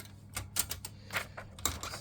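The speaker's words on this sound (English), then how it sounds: "this will be the first typing test with it" Keys clack on a 1980 Brother 210 slimline portable typewriter fitted with a new ribbon, about a dozen sharp strikes in an uneven rhythm, close and fairly crisp.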